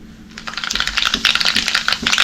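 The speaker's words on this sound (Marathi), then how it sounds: "मोहरी तडतडली की जिरं टाकायचं आहे." Mustard seeds crackle in hot oil in a home kitchen, a dense, close burst of rapid sharp pops with no talking.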